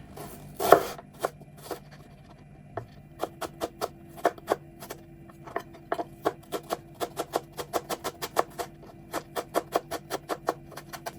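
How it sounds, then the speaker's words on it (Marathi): Ginger being finely chopped with a knife, for a Goan red masala beef curry: a long run of crisp, close knife taps on a board, quickening into a steady rapid rhythm and carrying on alone without talk. "आतां जिंजरूय आमी तीच बारीक कातुया."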